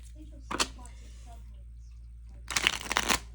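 Two bursts of oracle cards being shuffled, a short riffle then a longer rustling shuffle, close by in an otherwise quiet room.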